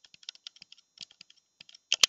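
Light typing on a computer keyboard, a quick series of soft clicking keystrokes heard close and quiet, ending with a couple of louder key presses, no voices.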